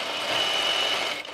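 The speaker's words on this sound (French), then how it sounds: "on vient refermer à la machine" A sewing machine runs in one continuous, close, steady whir as it stitches shut the fabric lining of a small case, easing off at the very end.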